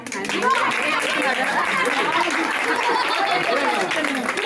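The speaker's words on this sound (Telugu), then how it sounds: "క్లాప్స్ కొట్టండి." Guests applaud at a home wedding ceremony for Srinivasa Perumal's Thirukalyanam, a steady wash of hand clapping running throughout with chatter and murmuring voices mixed in.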